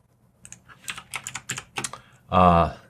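A computer keyboard is tapped in a quick irregular run of about a dozen light clicks, close and fairly quiet, ending in a brief louder burst.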